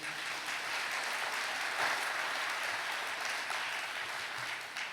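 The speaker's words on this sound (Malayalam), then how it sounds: "ഒന്ന് കൈയുയർത്തി കൈയടിച്ച്" Steady applause from a church congregation at a Malayalam prayer gathering, many hands clapping together at an even level throughout, with no speech over it.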